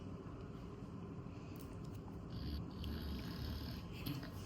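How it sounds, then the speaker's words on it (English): A young boy snores while asleep, a low, steady rumbling breath that drones continuously and fairly softly beneath faint room noise. "you might be hearing the snoring in the background"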